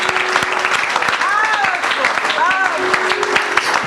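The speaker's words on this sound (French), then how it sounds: "Can we clap for the Lord?" A church congregation claps for the Lord in steady, sustained applause that fills the room, with cheers and voices rising through it.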